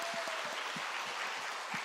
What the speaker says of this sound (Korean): 우리 말씀 전해주신 우리 목사님 위해서 우리 감사의 박수 하도록